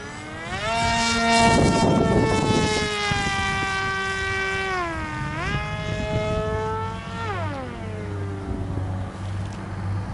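An Element XE 63-inch RC plane with a 750 watt electric motor spinning a 10x6 propeller flies past on its maiden flight, its loud whining tone sweeping up and down in pitch as the throttle and distance change.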